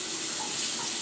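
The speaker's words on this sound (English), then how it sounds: "Washing the hands again." Tap water runs in a strong, steady stream while hands are washed, a close, full gush that lasts the whole second without a break.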